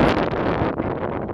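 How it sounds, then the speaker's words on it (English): Strong wind buffets the microphone at a lakeside carp fishing spot, a continuous loud roaring gust with no break across the short stretch. "the wind's not letting up"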